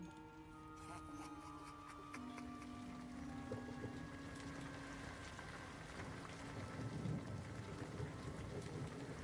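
Steady rain hisses through a tense audio drama scene, a continuous wash of downpour with low rumbling underneath, while faint tonal music or voices drift in and out above it.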